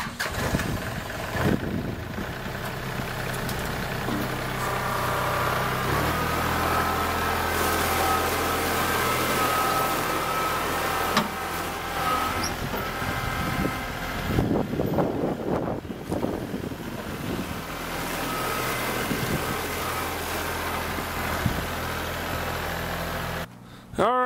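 A tractor engine runs steadily as the machine drives over Groundgrid laid on a muddy gravel driveway, a close mid-pitched rumble with some wind buffeting the microphone throughout.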